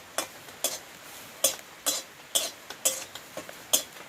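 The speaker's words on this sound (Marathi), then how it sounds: "हे खोबरं आता आपण थोडं भाजून घ्यायचं" Fresh grated coconut being stirred and dry-roasted in a kadhai, with close, crisp scraping strokes repeating about twice a second over a faint sizzle and no voices.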